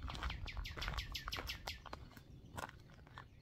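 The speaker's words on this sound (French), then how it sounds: "On les entend, mais on ne les voit pas. C'est ça la particularité des oiseaux." Birds hidden out of sight chirp in quick bursts of bright, sharp tweets, a rapid run of calls followed by a few scattered notes, fairly close and with no voices.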